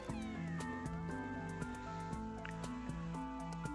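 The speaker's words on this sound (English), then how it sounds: "Oh, there's a cat. We found a cat." A cat meows in a video game, a faint, short mewing call buried under looping game music with steady rhythmic notes.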